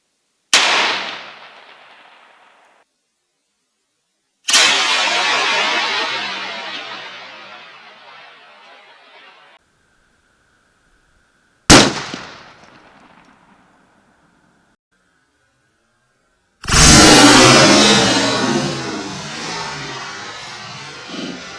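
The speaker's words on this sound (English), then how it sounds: "fifth shot is going to be with the Buffalo Bore 405 grain jacketed flat nose" A 45-70 rifle fires Buffalo Bore 405 grain jacketed flat nose rounds into sheet metal: four loud, close, booming reports spaced several seconds apart, each trailing off in a long echoing decay, with no talking.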